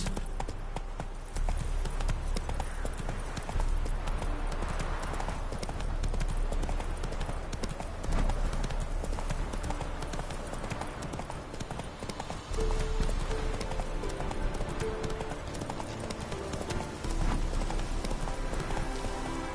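Roach the horse's hooves clip-clop steadily in The Witcher 3, a continuous rhythmic trotting under game music and ambience, loud and close throughout.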